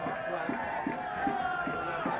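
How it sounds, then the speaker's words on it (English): Football crowd at a Warrington Rylands versus FC United of Manchester match, a steady roar of many voices swelling with excitement under a commentator's voice, with faint rhythmic chanting pulses. "Crowd's getting a little bit more pumped up now following that string of chances there"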